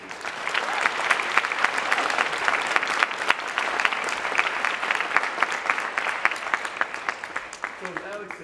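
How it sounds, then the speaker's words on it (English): Steady, dense clapping from an audience at a community meeting continues for about eight seconds at moderate loudness before a voice begins at the end. "I would just ask that we applaud that one more time."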